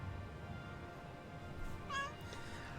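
Cat meowing faintly in the background, a single short rising meow near the end over a steady low hum, with no clear talk.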